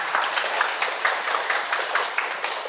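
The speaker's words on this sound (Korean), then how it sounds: "큰 박수 한번 부탁드립니다." A lecture audience gives a hearty round of applause, steady massed clapping with small rhythmic surges, fairly loud and continuous without talk over it.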